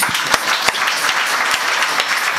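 Audience clapping for the sound system operator at a devotional satsang gathering, a steady dense patter of many hands with a few sharper claps standing out, continuous and fairly close.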